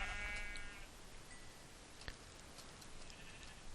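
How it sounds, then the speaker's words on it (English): A gray sheep bleats once in the Minecraft video game, a clear wavering call at the start, fairly faint, followed by quiet game ambience with a single sharp tick. "There's a gray sheep."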